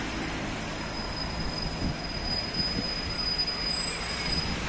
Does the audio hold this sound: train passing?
yes